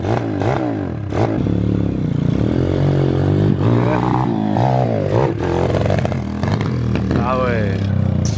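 A motocross bike with an engine problem revs and stalls unevenly at close range, its rising and falling engine note mixed with clattering and scraping, under steady talk throughout.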